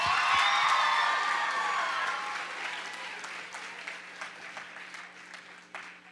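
Audience at a middle school talent show applauds, starting loud and dense and gradually thinning out into scattered claps over several seconds.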